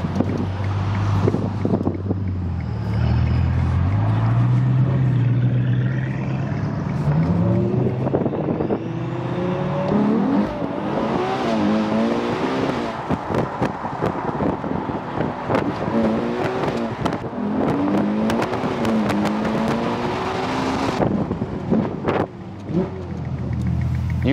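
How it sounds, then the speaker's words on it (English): Fast sports car driving and accelerating on Los Angeles roads, engine note climbing through gears with loud wind rush buffeting the microphone, heard close and continuous. "actually driving his own car instead of letting me drive it all the time"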